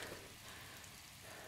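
Steady, faint rain hiss falls continuously in the video game Breath of the Wild, a soft even patter with no other sounds.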